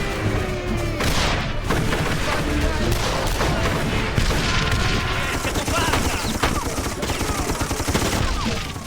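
The video game Darkest of Days sends out dense, continuous loud gunfire and rolling grenade explosions, a steady barrage of booms and shots with no break.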